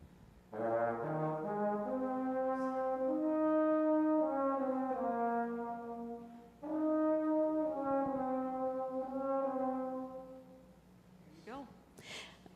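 A baritone horn plays a slow rising melody of sustained notes, pausing once before a second phrase, with a faint voice at the very end.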